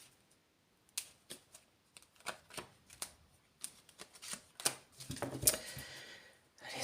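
Quiet, close card handling as a deck is cut and cards are drawn, a series of sharp individual flicks and snaps followed by a denser shuffling rustle, with no talking.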